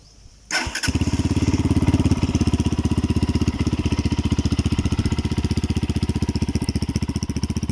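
A GPX GR200R motorcycle engine starts up and settles into a loud, steady idle with a fast, even thumping pulse close to the microphone.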